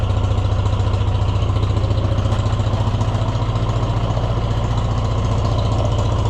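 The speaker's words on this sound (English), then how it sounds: "Yeah, see, it's running like the choke's out." Oliver 1250 tractor engine running after a fuel system cleaning, a steady, fairly loud idle with a rapid even chugging pulse and no talking.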